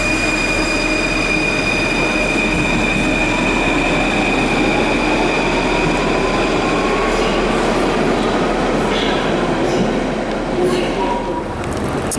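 A Paris metro train arriving at Blanche station rumbles loudly and steadily, with high whining tones and faint wheel squeals.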